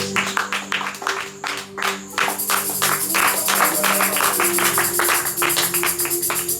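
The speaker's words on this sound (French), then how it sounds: "Acclame pour cela." A church congregation claps and cheers together, with steady overlapping hand claps and voices forming a continuous crowd roar that stays loud throughout.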